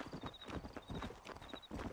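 Rhythmic clip-clop of galloping horse hooves in Red Dead Redemption, steady and close, with a faint tonal chime repeating in the background.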